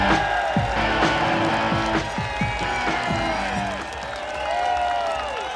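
A large outdoor Brexit rally crowd cheers, whoops and claps continuously for an arriving speaker, with scattered sharp claps and shouts forming a loud, sustained wash that eases slightly toward the end.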